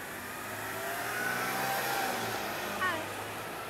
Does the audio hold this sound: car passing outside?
yes